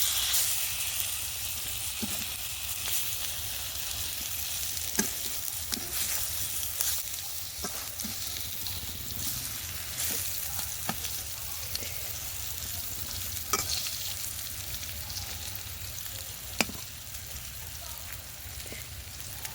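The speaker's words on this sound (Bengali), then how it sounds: "বেগুনগুলো এক পিঠ করে ভাজা হয়ে গেছে, আর ঢেকে ঢেকে ভাজলে বেগুনগুলো খুব সুন্দর ভাজাও হয়" Eggplant slices frying in oil in a covered pan, a soft steady sizzle with scattered crackles and pops, fairly quiet and with no talk.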